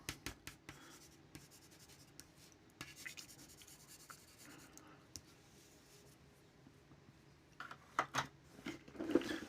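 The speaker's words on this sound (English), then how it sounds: "Go with the side of the pencil." A pencil is rubbed on its side across paper to shade hills, making soft, continuous scratchy strokes. Brisker, louder scribbles come toward the end, close and alone.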